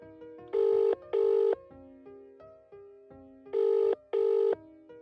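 An old-style telephone bell rings in two pairs of loud, sustained bursts, separated by a quieter stretch of soft musical tones, with no one speaking.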